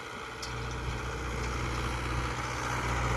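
A Mahindra Yuvo tractor pulls a disc harrow through a field, its diesel engine giving a steady, close, heavy drone with low chugging throughout and no talk.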